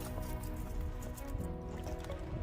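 Gold pan worked in water with heavy, hematite-rich gravel, steady close sloshing and swishing with drips and trickles throughout, no talking.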